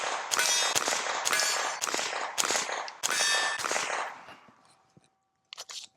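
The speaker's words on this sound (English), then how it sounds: "Let's shoot some rounds on the burn to see what it sounds like." Suppressed Ruger Mark IV 22/45 Lite .22 pistol firing 40 grain rounds outdoors, a rapid string of about six sharp cracks with ringing metallic clangs, then a brief pause and a short final burst.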